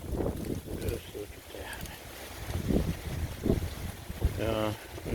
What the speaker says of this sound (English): I'm not going to miss this wind.